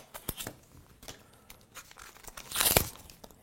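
The plastic packaging of a cheap Dollarama eyeliner pencil is torn open: a few faint crinkles and snaps, then a louder burst of tearing and crackling near the end, close up.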